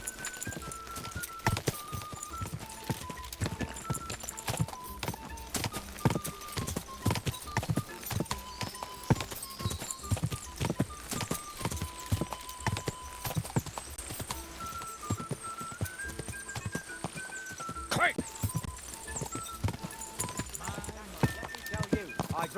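In the video game Kingdom Come: Deliverance 2, a fast horse gallops in a race. Its hooves make a rapid, steady clip-clop that runs throughout under music, with a brief whinny.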